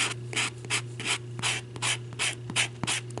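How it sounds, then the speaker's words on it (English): Steady back-and-forth scraping of the fine side of an abrasive sanding block on a hard ornament surface, about three strokes per second, close and continuous with no talking. "I'm going to take the fine side of my Dollar Tree sanding block"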